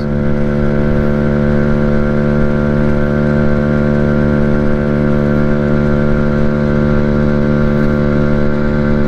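An Amstar Nostalgia 50cc motorbike engine holds a loud, steady high-RPM whine around nine thousand revs at cruising speed, buzzing continuously without a break.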